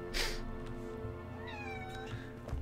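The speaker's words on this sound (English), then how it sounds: "Yep, that's my cat moaning." A domestic cat meows in a drawn-out, moaning wail near the middle, then fades, set against steady background music from the Enshrouded game.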